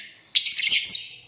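Lovebirds (agapornis) let out loud, shrill chirps up close: a brief high squeal followed by two quick bright tweets in a rush, with no voices.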